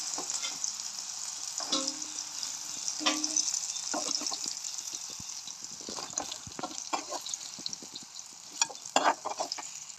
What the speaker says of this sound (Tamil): இந்த மாதிரி வறுக்கணும்